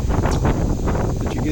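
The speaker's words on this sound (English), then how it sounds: "It's pretty bloody windy." Steady gusting wind buffeting the microphone outdoors, a loud rumbling roar with a faint rustle, and no speech.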